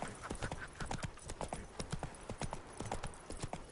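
Roach, the horse in The Witcher 3, gallops in a quick, steady clip-clop of hooves on hard ground, close and continuous, with faint snorting breaths.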